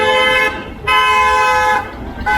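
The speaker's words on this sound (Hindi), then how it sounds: "ऐसी फालतू में बजा रहा है हॉर्न" A loud, close vehicle horn honks in long blasts on a road near Gurgaon or Agra, with a brief gap between two sustained toots and a short one at the end.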